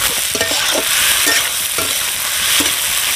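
Onion and chilli frying loudly in a pan for a Pahadi egg curry, a steady bright sizzle with a few spatula stirs and scrapes, close by and without voices.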